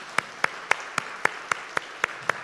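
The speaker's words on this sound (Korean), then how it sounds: "우리 박수로 우리 환영하겠습니다." A church congregation claps in welcome for two visiting pastors during a Sunday worship service, a short run of about nine evenly spaced, crisp claps at a moderate, steady tempo, with no voices.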